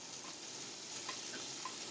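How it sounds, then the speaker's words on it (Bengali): Koi fish frying in hot oil in a pan give a steady, soft, close-up sizzle with faint crackles and pops, continuous throughout with no talking. "সমস্ত কই মাছগুলোকে আমি উল্টে পাল্টে ভেজে তুলে নেব"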